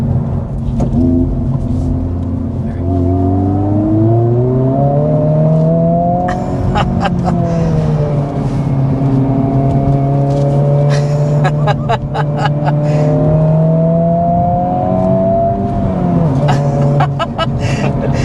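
A 2024 Honda Civic Type R hot hatch driven hard on a back road, its engine note rising and falling steadily through gear changes with bursts of road and wind noise, close and continuous for the whole stretch.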